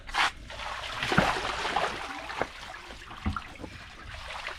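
Water flows and trickles close by at a new home, a steady wash of splashing with a few louder gurgling bursts throughout.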